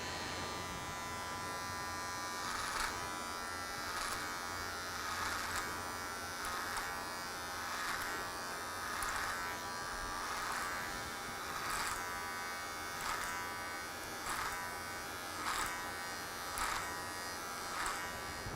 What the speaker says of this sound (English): I'm gonna do it with clipper close.